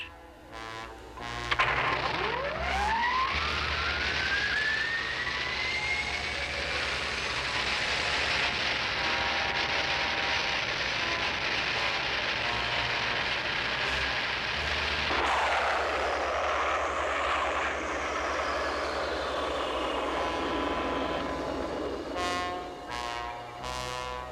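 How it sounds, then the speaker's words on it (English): The Star Seeker spaceship launches in a sci-fi TV effect: a rising whine sweeps upward into a loud sustained roaring drone, shifts midway to a deeper tone, then trails off near the end. "Prepare Star Seeker number 5 for immediate takeoff."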